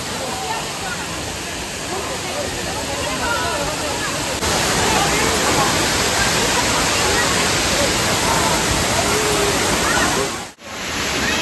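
Hidden waterfall in the hills of Assam, a loud, steady close rush of falling water filling the whole scene, briefly cut near the end, with no distinct voices.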